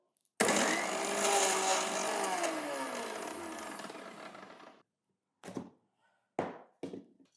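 A kitchen blender whirs loudly in a jar for about four and a half seconds, its motor pitch sliding downward as it runs, then stops, followed by a few short knocks and taps of the jar.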